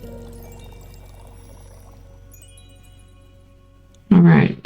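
A drink is poured in the tavern game Night Cheese, a sudden loud close splash of liquid lasting about half a second at the end, following a long stretch of quiet low humming ambience.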